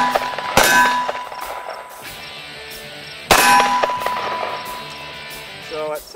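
Copper matrix frangible .223 rifle rounds (RUAG NTF, non-toxic) striking a steel target at close range, two sharp ringing clangs about three seconds apart, each with a bright metallic decay.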